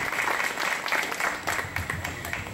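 An audience at a youth spiritist gathering claps for the event team, uneven bursts of hand clapping with audible individual claps, moderately distant, with some faint voices mixed underneath.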